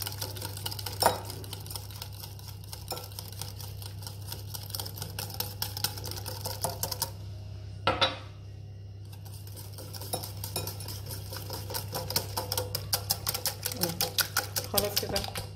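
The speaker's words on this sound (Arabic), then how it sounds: "هنحط الزيت ونقلب لغاية لما الزيت يضيع، ونحط تاني." A spoon clinks and scrapes rapidly in a bowl as oil is stirred into homemade garlic sauce (toum), a steady run of small metallic ticks over a constant low hum, briefly pausing partway through.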